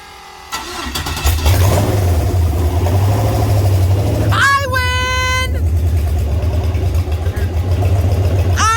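A car engine left sitting for five years cranks, catches and settles into a steady idle, a loud close rumble with a brief rev and a squealing noise partway through.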